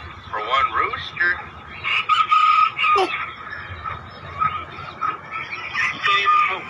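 Roosters crow repeatedly near and at a distance around a backyard coop, the drawn-out calls rising and falling with some talk and clucking beneath.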